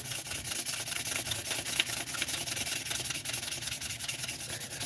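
Sandpaper at 320 grit rubbing a spinning turned piece on a lathe, just off a carbide square-tip tool, giving a steady continuous hiss with faint rhythmic pulses throughout.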